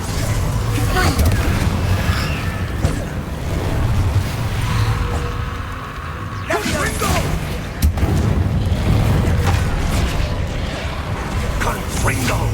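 Confringo fiery explosion spells cast in a Hogwarts Legacy duel, several loud booms and bursts with crackling impacts spread through a busy battle, alongside shouted voices.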